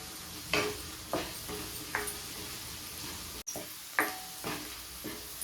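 Green peas frying in a pan, a steady close sizzle broken by a handful of sharp spatula scrapes and stirs spaced about a second apart, with no talk.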